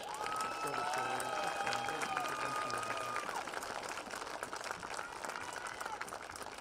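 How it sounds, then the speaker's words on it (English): Crowd applause and cheering fill a stadium for Richland Rams football seniors, a steady broadband wash with a public-address voice or tones over the first few seconds, continuing alone afterward. "And how about a nice round of applause for all our football Richland Rams seniors."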